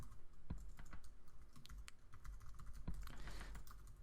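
Typing on a computer keyboard while writing email-sending code, a steady run of close, crisp keystrokes with irregular rhythm and a few heavier taps, no talking.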